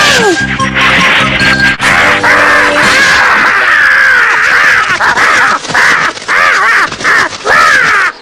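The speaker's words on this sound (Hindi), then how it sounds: "ये वही कौवा है ना जो तुम्हें काफी देर परेशान कर रहा था?" A crow caws loudly and repeatedly up close, harsh calls coming in quick succession with brief pauses, in a Ninja Hattori cartoon.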